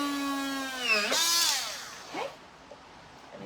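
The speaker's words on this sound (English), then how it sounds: "Okay, we're going to drill our holes now." A power drill whines steadily, then sweeps up and down in pitch as it bores holes in material for a homemade sugar glider floor toy; close and fairly loud, fading to quiet scrapes at the end.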